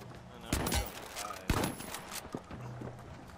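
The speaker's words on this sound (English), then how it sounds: "Who the fuck is shooting at me?" Gunfire in the first-person shooter The Finals: two sharp, punchy shots about a second apart, followed by softer thuds and movement noises, fairly quiet overall.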